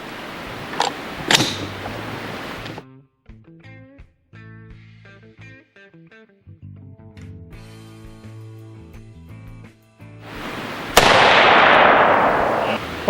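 An AR-15 rifle fitted with a muzzle brake fires sharp, loud blasts, a quick pair at the start and one more near the end, while a tonal, musical sound fills the quieter middle.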